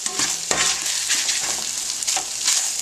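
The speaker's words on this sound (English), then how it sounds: "I am just going to let that continue to fry and demoisturize for a while" Canned salmon scramble fries in oil with a steady, close hiss and crackle, broken by light scraping stirs of a utensil in the pan.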